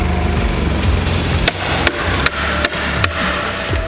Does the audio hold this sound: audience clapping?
no